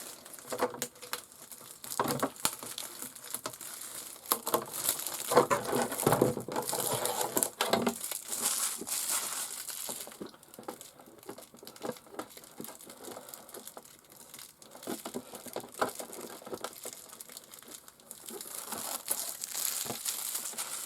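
Paint mask film being peeled off a Traxxas Wide Maxx RC car body, its adhesive gooey, giving close, continuous crinkling and tearing crackles with irregular bursts, no talk.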